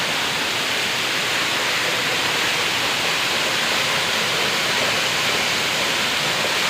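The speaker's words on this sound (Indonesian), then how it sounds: "beginilah suasana dari air terjun Raja Ilang" Dense, constant roar of the Reje Ilang waterfall in Bener Meriah, Aceh, a steady wash of rushing water with no pauses or voices.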